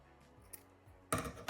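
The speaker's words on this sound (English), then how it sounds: "And now you'll get your scissors." A couple of quick snips of scissors cutting yarn close by, crisp and short, following a few quiet handling sounds.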